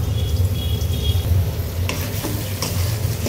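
Onion, ginger and garlic paste, bay leaf, cumin, coriander, chili, turmeric and salt frying in a pan, a close steady sizzle broken by scraping stirs of a spoon.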